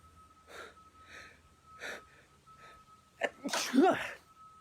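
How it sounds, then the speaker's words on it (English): A few soft breathy sounds, then one loud, close sneeze with a sharp intake and burst near the end. "I think that was just me sneezing."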